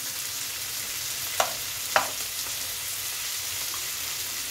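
Fish roe fries in oil in a pan during a Bengali fish-oil chachchori, giving a loud, steady hiss broken by two sharp spatula clinks, close up and without talking.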